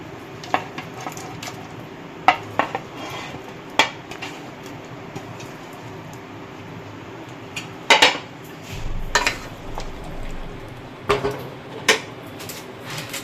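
Paneer cubes go into a pan of milk and oil for malai paneer, with a scattering of sharp clinks and scrapes of utensil on cookware over a low steady background, plus a brief sizzle-like rush in the middle.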